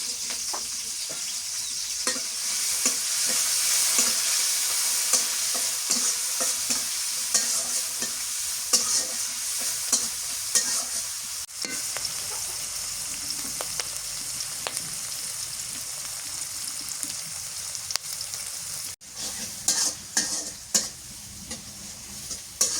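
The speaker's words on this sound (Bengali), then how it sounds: "কাঁচা মরিচ আর পেঁয়াজ দিয়ে দিই।" Potatoes, green chillies and onions fry in hot oil for a fish curry, a loud continuous hiss and crackle with repeated scraping of a spatula stirring, close by and without speech.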